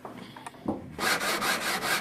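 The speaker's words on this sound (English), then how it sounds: "Make sure you sand it real good using a sanding block." A few soft scrapes, then steady rhythmic rasping strokes of a sanding block on wood, close and fairly loud, with no voices.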